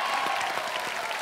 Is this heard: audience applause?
yes